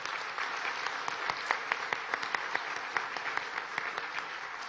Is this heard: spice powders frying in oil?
no